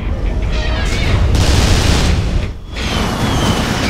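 Rocket explosions in the action shooter Vanquish, heard as a loud, continuous roar of booms and blasts that fades briefly and then surges again.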